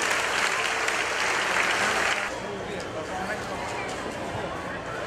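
Audience applause at a school film festival in Rajasthan, steady dense clapping from a crowd that drops slightly in intensity midway, with talk and chatter mixed in throughout.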